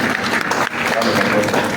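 An audience applauds at a live event, a dense, steady wash of many hands clapping close by with no break through the whole short stretch.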